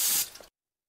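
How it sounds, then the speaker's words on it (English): Cooking spray hisses onto a hot waffle iron in one short, close burst that fades within half a second, followed by silence. "Spray it real quick."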